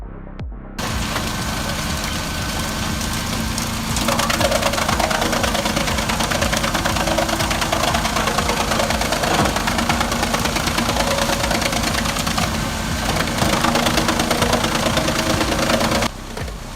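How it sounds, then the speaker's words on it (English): A wood chipper powered by a New Holland tractor runs at full output, a loud, steady engine drone with a knocking pulse that holds unbroken for the whole stretch, with no voices. "The powerful New Holland tractor is there for a reason, demanding maximum output just to keep the chipper fed and running."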